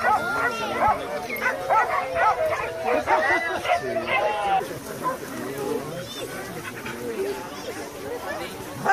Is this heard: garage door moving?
no